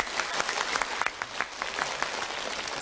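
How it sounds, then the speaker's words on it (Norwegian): A theatre audience applauds actors being introduced, a continuous crackle of many hands clapping at moderate loudness with scattered louder claps. "Skal vi klappe for han,"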